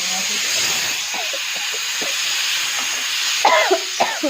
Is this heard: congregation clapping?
no